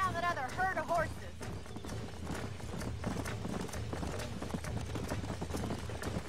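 Horse hooves gallop in the Western video game Red Dead Redemption. A steady, rapid clip-clop rhythm runs throughout at moderate volume, with a brief whinny-like sound at the start.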